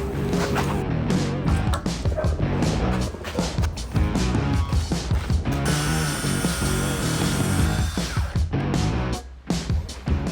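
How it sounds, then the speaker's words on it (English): A power saw cuts through a sheet of 15mm Gaboon plywood, giving loud, busy mechanical whirring and cutting noise with irregular bursts, close by and continuous, without talk. "After breaking down a full sheet of 15mm Gaboon plywood, I could trace the template onto it and cut it out."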